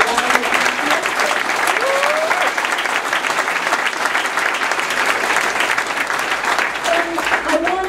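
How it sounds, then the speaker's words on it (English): Crowd at a Green Party political rally in Vermont breaking into loud, sustained applause, thick continuous clapping with scattered cheers and voices underneath for the full length. "So can we please give you a round of applause?"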